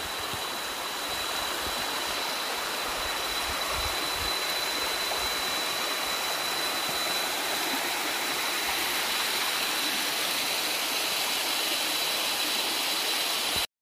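A large waterfall in the Sierra Madre near General Tinio, Nueva Ecija, roars as a loud, steady, broadband rush of falling water that continues unbroken from start to finish.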